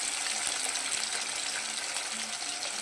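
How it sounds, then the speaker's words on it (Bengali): Hilsa fish fries lightly in hot oil, producing a continuous, even sizzling hiss that stays close and steady for the whole moment. "হালকা করে মাছটাকে ভেজে নেব ইলিশ মাছ সাধারণত হালকাই ভাজে"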